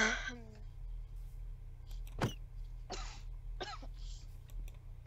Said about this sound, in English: I don't want to, like, keep coughing.